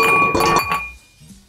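Ice cubes dropped into a glass for a Romulan Ale: a couple of bright, ringing clinks close by, fading out, with a soft knock at the end.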